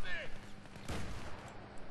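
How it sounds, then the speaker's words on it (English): Gunfire in the video game Battlefield 3, a burst of broadband shots near the one-second mark over a noisy game background, with a brief high tone at the start and faint voice traces. "I can't even see these people that are shooting me."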